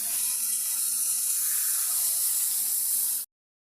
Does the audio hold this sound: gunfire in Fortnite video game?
no